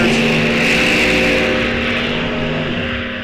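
Corvette Roadsters drag racing at Rock Falls Raceway during an NHRA National Open, a loud, sustained engine roar filling the track with a steady drone that fades slightly toward the end.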